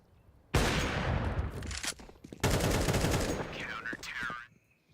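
Rapid gunfire in Counter-Strike during a professional PGL tournament match, two loud sustained bursts of automatic fire close up, broken by a brief pause and ending with a fading tail.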